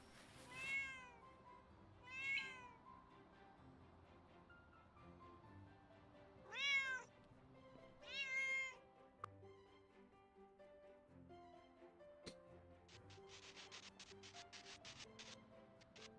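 A cartoon cat in a pet-hotel video game meows four times in clear, separate calls, with soft game music and chimes continuing underneath and no talking.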